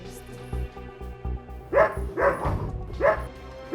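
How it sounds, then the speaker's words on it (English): A dog barks three or four times in quick succession, close and fairly loud, over low tense background music in a dramatized paranormal investigation scene. "The dog started barking to get our attention."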